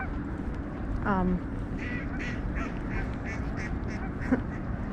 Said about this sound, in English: Ducks are laughing.